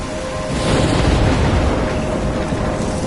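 Storm in Life is Strange near a lighthouse: a loud, steady roar of wind and heavy rain, swelling into a deep rumbling surge like rolling thunder before settling back into the downpour.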